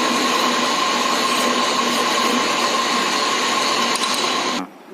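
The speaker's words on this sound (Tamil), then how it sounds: "இப்போ லெஃப்ட் ஹேண்ட் த்ரெட்டை வந்து ஃபார்ம் பண்ணிட்டோம்." A lathe cutting a left-hand thread on a 30 mm diameter workpiece in a lab: a steady mechanical hum and whir with a faint tonal whine, close and continuous, cutting off abruptly near the end.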